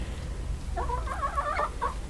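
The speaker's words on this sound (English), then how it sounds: "All the other chickens are wondering what I'm doing in here." A few soft, close chicken clucks from hens in a coop, a short run of burbling calls heard alone over a low background hum.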